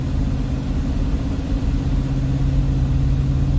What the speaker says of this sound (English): This car sounds loud, but we ain't going fast.